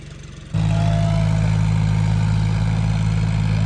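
A tractor engine labours in a waterlogged muddy field, jumping suddenly to a loud, steady, throbbing roar that holds close and continuous.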